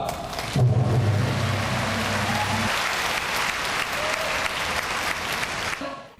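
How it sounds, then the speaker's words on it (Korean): A crowd of church business-mission members bursts into thunderous applause and cheering that echoes through the large main sanctuary of Yoido Full Gospel Church; a dense, roaring wash of clapping sustains for several seconds before tapering off. "회원들이 함성과 함께 우렁찬 박수가 대성전에 메아리쳐"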